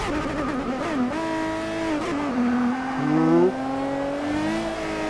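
A Ferrari FXX K in the racing game Forza Motorsport 6 revs loud and close, its engine tone climbing and falling through several gear changes with a smooth, sustained whine and no talking.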